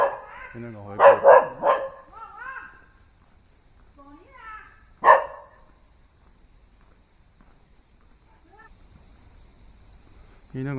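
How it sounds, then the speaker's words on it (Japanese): Dogs bark in loud bursts along a narrow old-town street in historic Yangzhou, with a cluster of barks early on and another sharp bark midway, then quieter gaps, while a person talks nearby. "犬が吠え狂ってて。"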